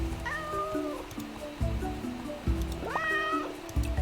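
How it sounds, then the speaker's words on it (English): Cave cats in the video game Roots of Pacha meow repeatedly up close, several drawn-out rising and falling cries over a low background hum. "Do we have cave cats down here?"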